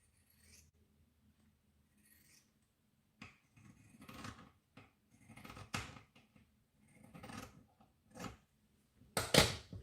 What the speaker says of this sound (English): I'm going to use pinking shears purely because I have them and they're nice and sharp.